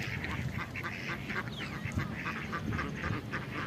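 White ducks with yellow feet and bills quack in a busy, overlapping chorus as they run off together on a farm fish-pond plot, a steady noisy flock sound throughout with no talking.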